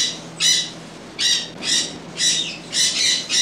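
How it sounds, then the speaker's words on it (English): Pet birds kept in an indoor jungle squawk loudly in four or five harsh, rasping bursts with short pauses between them, close by and with no talk over them. "This is where we keep all our little birdies."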